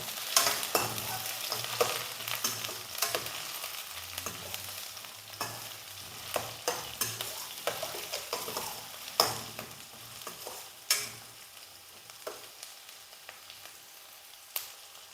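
Sliced onions and curry leaves frying in hot oil for a kabuli chana curry, stirred with a spoon in irregular scraping strokes over a steady close sizzle, with no talking.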